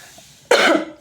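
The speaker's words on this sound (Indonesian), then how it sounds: "saya masih agak batuk" One abrupt, close cough from an adult woman, a single harsh burst lasting about half a second against a quiet background, with no talk over it.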